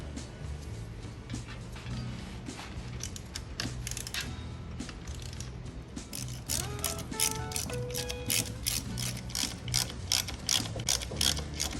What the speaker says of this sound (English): the next thing we're going to use is an 11/16 socket and loosen up the manifold